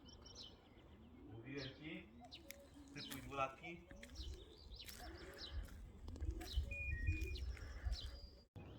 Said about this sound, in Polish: Są tutaj gołębie teraz.